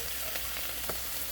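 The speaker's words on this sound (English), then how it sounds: "So we're gonna just go ahead and let these saute" Seasoned tomato sauce with minced garlic and Italian seasoning sautés in a pan, giving a steady, soft hiss of sizzling with a couple of faint pops and no voices.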